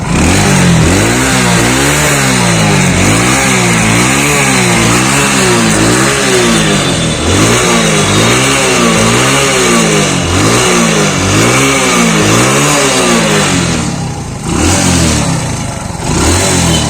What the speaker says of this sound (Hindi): सबसे पहले गाड़ी के साउंड सुनिएगा, एकदम परफेक्ट आवाज है